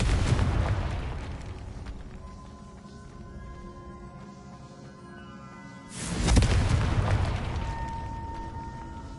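Two loud, near blasts from the Confringo fire spell in Hogwarts Legacy, one at the start and one partway through, each decaying into a rumbling tail and separated by a quieter stretch of game music.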